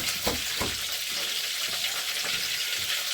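Garlic dropped into hot oil for a vaghar tempering, a steady loud sizzle and crackle with a few stirring scrapes near the start, close up and without talk.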